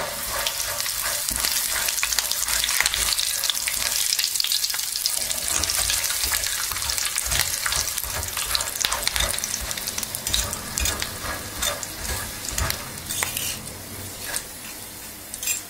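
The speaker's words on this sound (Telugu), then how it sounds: "పల్లీలు వేగాక కరివేపాకు కూడా దీంట్లో వేసేసి" Peanuts and curry leaves fry in hot oil for kara boondi, a loud, close, continuous sizzling and crackling with bursts of spattering and stirring scrapes.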